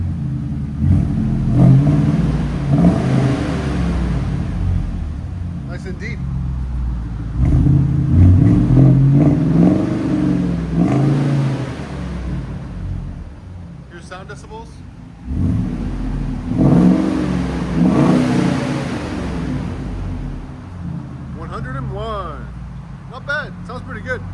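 A 2011-2022 Ford F250/350 pickup with a 6.2L V8 and aftermarket exhaust revving in bursts at a muffler shop, deep rumbling swells rising and falling over about twenty seconds with people talking between revs.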